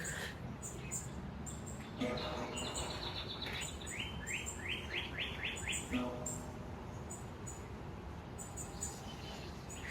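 Birds sing in a boreal spruce forest with almost no broadleaf trees, giving bright, repeated chirping runs at moderate loudness over a steady rustling background, busiest in the middle of the stretch.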